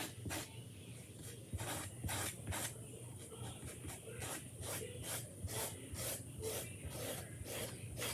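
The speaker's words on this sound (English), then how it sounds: "when I use my squeegee more upright, okay, so more perpendicular to my project, I am able to spread it and to kind of take the excess off at the same time" Squeegee dragged over a stencil screen spreading chalk paste for a Christmas tree craft kit, giving repeated close rasping scrapes in a steady back-and-forth rhythm, with no talking.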